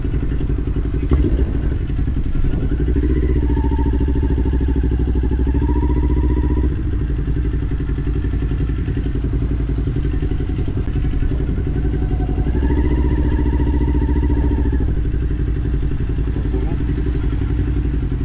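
A motorcycle engine runs steadily nearby as the bike rolls through gates at Thruxton, its pitch rising and falling as it moves forward, with some clatter and a voice speaking over it.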